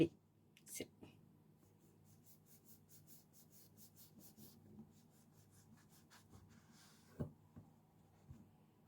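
Quiet scraping strokes of a knife cutting through round bread slices, a soft rasping repeated at close range over faint background hum, with a couple of small knocks near the end.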